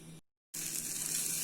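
Steady close sizzling of an omelette frying in a pan, briefly cut to silence, then returning louder and brighter.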